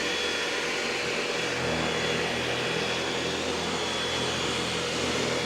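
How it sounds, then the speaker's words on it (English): An EcoVacs Deebot X9 Pro Omni robot vacuum runs in boosted suction mode on carpet, giving a steady, close, loud motor whine and airflow hiss with no talk. "See how that's a bit louder? And so the vacuum is going stronger now for the carpet."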